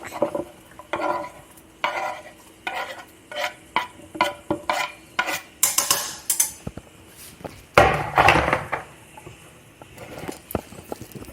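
Garlic added to a pot of zurek, Polish sour rye soup, then stirred with a utensil, giving close rhythmic scraping and clinking strokes against the pot, a louder clatter near the end, with no speech.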